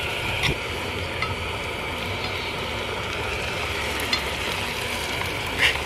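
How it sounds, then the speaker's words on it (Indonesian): Nuggets frying and tofu stir-frying in a pan at a campsite, giving a steady, close sizzle with faint scraping stirs and small clinks, no speech. "Ini tinggal bikin oseng tahu sama ini goreng nugget"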